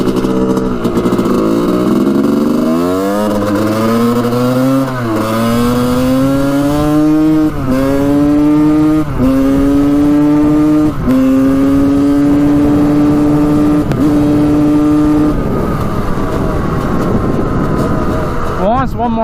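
A Honda CR250 two-stroke dirt bike accelerates hard on gravel, its loud engine climbing in pitch through several gear changes, with brief dips between shifts, before it eases off near the end.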